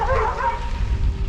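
Several dogs behind fences bark and yip along a rail trail as a bikepacker rides past, the barking fairly close over steady wind and road rumble.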